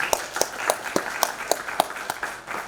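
An audience at a song launch event claps in a short burst of applause, with sharp, fairly regular claps at moderate loudness and no talking.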